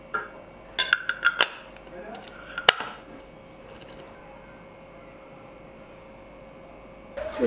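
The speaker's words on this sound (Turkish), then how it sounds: "Şu şekilde bir kere tık, sonra sıkı bir şekilde kapatın." Lid screwed down on a glass pickle jar: a cluster of sharp metallic clicks and clinks early on, then one more snap and a short rattle, close up in a quiet kitchen.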